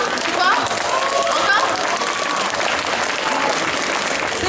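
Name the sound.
audience applause test at cosplay contest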